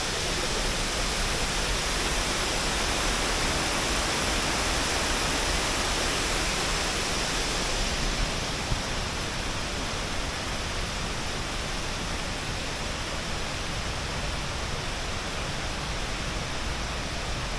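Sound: small waterfall near Dhutpapeshwar temple, Konkan

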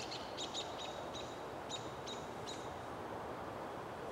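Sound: birds calling outdoors in spring

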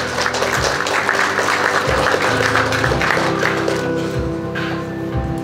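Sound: applause

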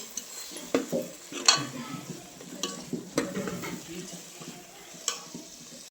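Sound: dal being stirred and mixed in a pot

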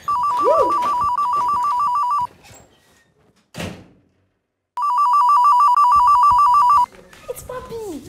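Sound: telephone ringing

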